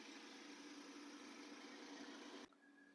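A Cub Cadet riding mower engine idles just after starting, a steady mid-pitched drone held evenly for a couple of seconds before cutting to a quieter hum.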